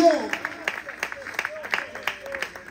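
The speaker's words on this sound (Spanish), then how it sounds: "Denle un aplauso" Church audience applause: light, scattered clapping from a congregation, soft and a little distant, running under a voice speaking Spanish.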